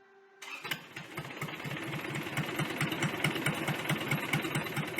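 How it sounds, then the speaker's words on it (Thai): An engine cranks and catches, then settles into a rough, rhythmic idle with a steady chugging pulse, close by and moderately loud. "เสียงเครื่องยนต์"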